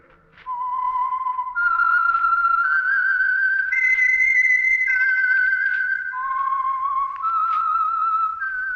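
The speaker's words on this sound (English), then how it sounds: "That whistle is your signal for the Signal Oil Program" A lone human whistler performs the eerie theme melody of The Whistler radio program, clear sustained notes gliding up and down in a slow tune, loud and close.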